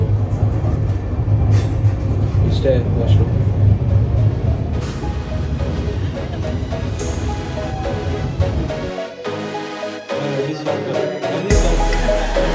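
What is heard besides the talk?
moving train heard from inside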